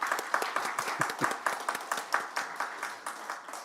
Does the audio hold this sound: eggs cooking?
no